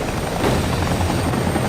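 A helicopter in the Max Payne video game, its rotor and engine producing a steady, dense, loud drone throughout with no talking.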